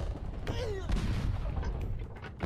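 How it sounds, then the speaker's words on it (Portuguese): Booming cannon fire in the video game Rock of Ages, a couple of heavy blasts with rumbling impacts against continuous game noise. "De novo esse canhão."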